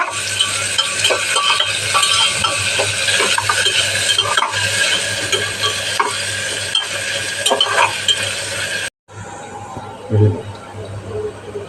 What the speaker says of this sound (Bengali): পেঁয়াজ কুচি এখন সুন্দর করে লাল করে ভেজে নেব